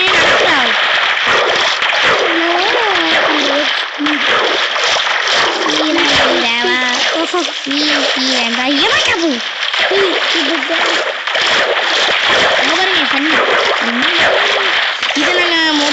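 Splashing water in Minecraft as a character walks across the surface, continuous splatter throughout while someone talks excitedly over it.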